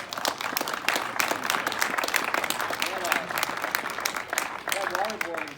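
Applause from an audience at a film premiere, steady crowd clapping at moderate level throughout, with some voices mixed in.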